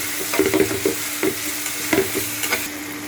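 Salt is stirred into tomatoes softening in a hot pan, with a spoon scraping and stirring over a steady sizzle. Several close scraping strokes are heard and nobody talks.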